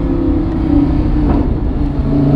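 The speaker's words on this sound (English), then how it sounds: "Now the engine's warm." An Audi R8 engine drones and revs steadily, loud and close, with a continuous low rumble and no talking.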